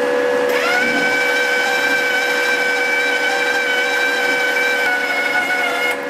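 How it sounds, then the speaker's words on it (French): A Stanley VIP Multi 160 MIG welder feeds wire through its torch, its motor starting after a brief pause and holding a steady, close whine for several seconds before cutting off, with no talking. "je bouge le bouton pour aller sur la position MIG et ensuite je fais avancer le fil dans la torche"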